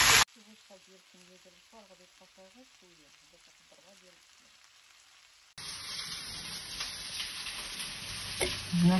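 Onion fries in butter in a pan. A voice talks quietly at first, then a loud, close, continuous sizzle with crackling spatter takes over for the second half.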